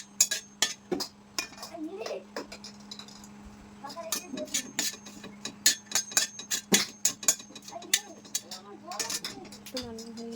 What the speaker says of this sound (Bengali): শুকনো লঙ্কাগুলো দিয়ে একটু হালকা করে ভেজে নেব